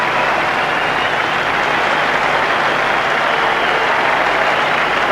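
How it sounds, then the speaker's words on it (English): Big crowd at Adelaide Oval applauding a batsman's Test century in a cricket match, a steady dense wash of clapping and cheering that stays loud and even throughout with no voices on top. "Applauded by this big crowd"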